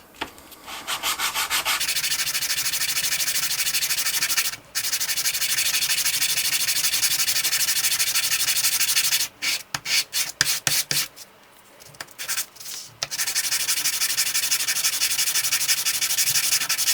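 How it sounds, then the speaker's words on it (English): An aluminium part from a cheap 3D printer extruder is rubbed back and forth on sandpaper, making a close, continuous raspy scraping with a few brief pauses and choppy strokes partway through. "If you ever get the feeling that the aluminium is not running smoothly over your sandpaper,"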